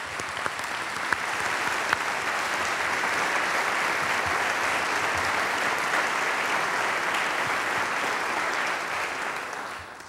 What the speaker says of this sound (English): So show them your appreciation with your applause